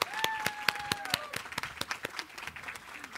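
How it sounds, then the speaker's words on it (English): Applause at a nursing college white coat ceremony, a modest scattering of distinct hand claps heard at moderate distance, with some whistles or cheers early on, fading after a few seconds. "Round of applause, please."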